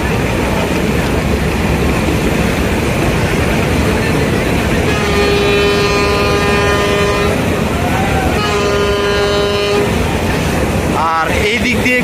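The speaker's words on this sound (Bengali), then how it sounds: "এই দিক দিয়ে কিন্তু একই সাথে 2টা লঞ্চ বের হয়ে যাচ্ছে" Passenger launches pulling away from a busy river terminal sound long, loud horn blasts, one held several seconds and another shortly after, over a dense rumble of engines and crowd chatter.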